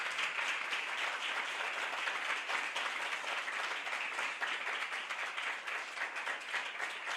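A church congregation in Pakistan claps in a steady, sustained round of applause during a revival service, even and fairly distant-sounding, with no voices standing out.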